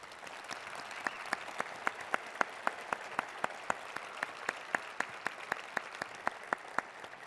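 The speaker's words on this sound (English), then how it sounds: "please give a warm round of applause for the Arizona Market President of Comerica Bank," Audience at a police awards ceremony applauds for a bank's market president, steady diffuse clapping with one or two nearby hands beating sharp, evenly spaced claps above the crowd.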